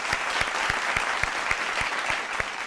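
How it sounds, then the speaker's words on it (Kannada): Loud, steady applause from an audience at a televised singing reality show, dense clapping filling the whole stretch with regular sharp claps standing out, no voices over it. "ಜೋರಾದ ಚಪ್ಪಾಳೆ ಬರಲಿ"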